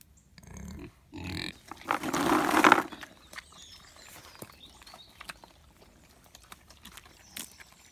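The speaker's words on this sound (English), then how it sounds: "Pigs are enjoying their acorn feast." Pigs feed on acorns scattered across the ground of a rural Portuguese smallholding, with snuffling, rooting and a burst of louder grunting and crunching near the start, then quieter scattered chewing and rustling.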